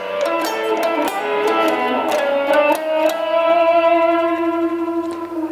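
Distorted electric guitar playing a blues lick, a run of picked notes that settles into a ringing sustained bend, loud and alone with no talking.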